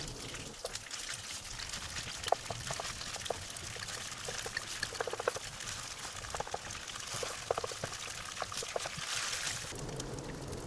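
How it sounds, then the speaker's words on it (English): Cubes of beancurd fry in oil in a pan over medium-low heat, a steady close sizzle with fine crackling pops running the whole time, no speech. "Fry them until the four sides are golden."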